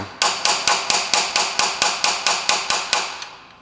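A hammer taps a seal driver to seat a new transmission filter seal on a Buick LeSabre 440-T4/4T60 automatic, in about a dozen evenly spaced, loud, sharp metallic strikes close by, with no talking.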